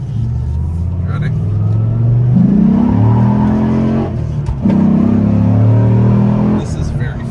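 A 2004 Dodge Ram SRT-10 pickup with its Viper V10 and six-speed manual accelerating hard from inside the cab, the deep engine note rising through two pulls with a brief dip at a gear change, loud and close, with talk heard over it.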